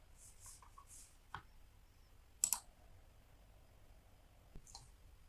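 A computer mouse clicks quietly a few times, including a quick double-click to open a file, each click short and faint against a low room hum.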